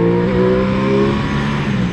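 Aprilia Tuono 660 naked sport motorcycle pulling hard in second gear while overtaking, a loud, close engine roar with strong steady harmonics that shift in pitch as it accelerates.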